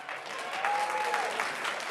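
An audience claps at a Huntington Beach city council meeting, a steady wash of many hands heard from a moderate distance, with a faint voice underneath.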